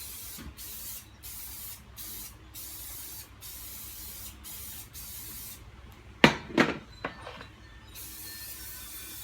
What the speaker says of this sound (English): Give it a fresh spray with oil.